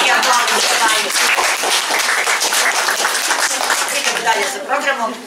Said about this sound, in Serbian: Jedan veliki aplauz za Maju